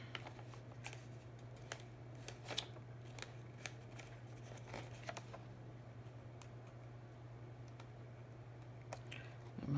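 Scissors snip at material to cut a small notch, producing a scattered series of faint, sharp clicks and crunches over a steady low electrical hum, with no voices.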